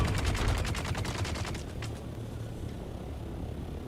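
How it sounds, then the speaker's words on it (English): Rapid automatic gunfire from NPC enemies in the game Dune Awakening, a fast rattling burst over a droning aircraft engine, fading after about two seconds. "Oh look, they're already shooting!"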